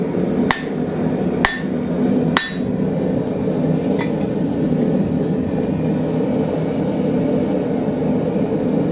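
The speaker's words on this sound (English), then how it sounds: "round it out a little bit, basically with a ball peen hammer" A ball peen hammer rounds the head of a nail header made from a railroad spike, striking three sharp metallic blows close by, then two fainter taps, over a steady low background hum.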